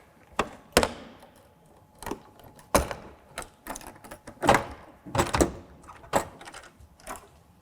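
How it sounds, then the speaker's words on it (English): Engine compartment door on the right side of an Airbus H145 helicopter being opened: a run of sharp latch clicks and knocks, then scraping panel movement, close and fairly loud, with no talking. "We can go ahead and open the engine compartment"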